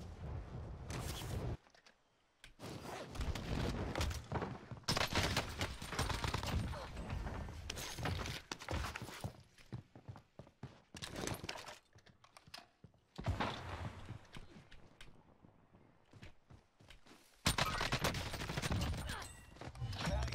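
Nail gun firing in Call of Duty Warzone, sharp rapid bursts of clattering shots in several loud volleys separated by short silences, with keyboard clacking mixed in.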